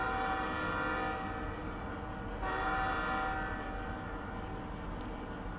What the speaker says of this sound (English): that's a good train noise